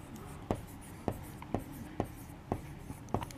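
Pen strokes on paper while a total is written out during an accounting lesson: about six sharp, evenly spaced taps and scratches close by, with soft speech underneath.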